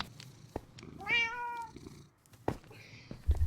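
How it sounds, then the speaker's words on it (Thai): A single clear, rising-and-falling cat meow from the Minecraft video game sounds near the middle, framed by sparse clicks, thumps and faint game noise, with a louder knock toward the end. "วิ่งตามแมวนานแล้วเนี่ย"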